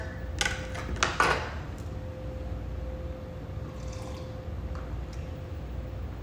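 A spoon stirs Spanish summer sangria in a pitcher, making a few quick clinks and sloshes at the start before settling into quiet room tone.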